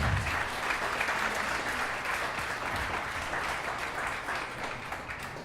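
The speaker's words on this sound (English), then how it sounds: "let's give Jordan a nice round of applause" Wedding guests at a seaside park pavilion break into steady, sustained applause close by, a dense wash of clapping that holds strong throughout and tapers only slightly near the end.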